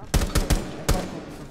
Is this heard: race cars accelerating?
no